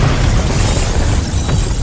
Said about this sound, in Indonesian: Dan ledakan besar pun terjadi.